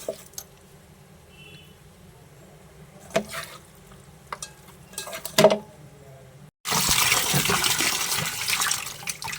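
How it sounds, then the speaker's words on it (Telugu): Raw chicken being washed under running water in a home kitchen, scattered splashes and squishy handling sounds giving way to a loud steady gush of tap water in the last few seconds. "చికెన్ని నేను వాష్ చేస్తున్నాను"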